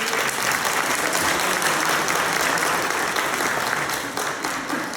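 Comedy show audience breaking into strong, sustained applause, a dense wash of many hands clapping at steady volume from start to finish.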